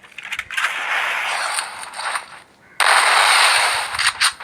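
Gunfire in the Free Fire video game: dense bursts of rapid, crackling shots that run almost continuously, break off for a moment, then resume loud and close, with no talk.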